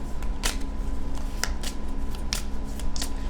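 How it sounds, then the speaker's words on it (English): An oracle card deck is shuffled by hand close up, with several soft riffling bursts spaced about half a second to a second apart over a quiet room hum. "Let's go ahead and get some cards from the Island Time Wellness deck."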